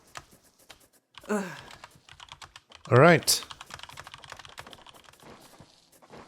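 Keyboard typing in the video game Empires of the Undergrowth: scattered, crisp key clicks tapping away at close range, with brief spoken lines breaking in.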